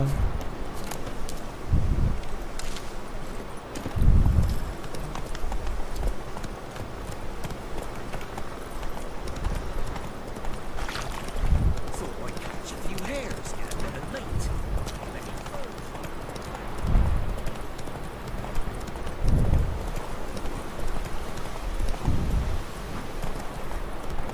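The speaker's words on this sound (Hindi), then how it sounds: "घोड़े" Horse hooves clip-clop at a steady trotting rhythm in the video game The Witcher 3: Wild Hunt, with wind and rustling in the background and a voice talking over parts of it.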